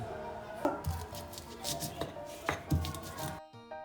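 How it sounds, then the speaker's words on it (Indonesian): Tempe being cut with a knife on a board, several crisp irregular chops and scrapes close up, ending in a short quiet pause. "Cut the tempe according to taste."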